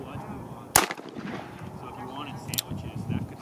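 A handgun fires a single sharp, loud shot, followed by a quieter stretch of low ambient noise with a faint voice in the background.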